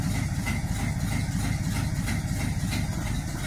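A Packard car engine idling just after a cold start with the choke partly in, a steady low rumbling drone at close range that holds even throughout with no other sounds.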